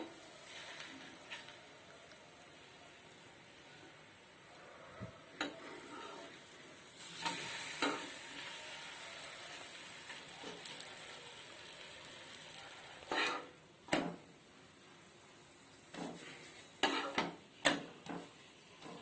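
A wheat poli cooks on a pan over a medium flame, giving a quiet, steady sizzle broken by occasional scrapes and taps as it is turned and pressed.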